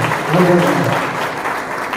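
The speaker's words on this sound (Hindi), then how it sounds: "एक बार जोरदार ताली के साथ अभिनंदन आपका" Warm audience applause at a scholarship distribution ceremony held by a charitable trust in Tinsukia, a dense, sustained crowd clapping that stays loud and even throughout.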